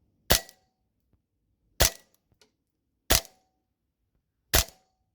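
A G&G SMC 9 gas blowback airsoft gun loaded with green gas and 0.2 gram BBs fires four sharp, loud single shots through a chronograph, evenly spaced about a second and a half apart with quiet between.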